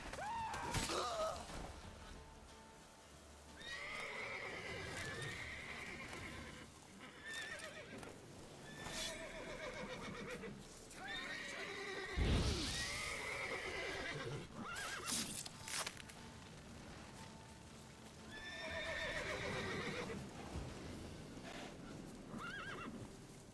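A horse in the video game Witcher 3 neighs several times in loud, drawn-out whinnies, with hooves clip-clopping and occasional thuds between calls.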